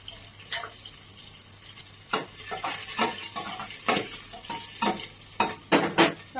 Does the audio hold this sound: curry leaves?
yes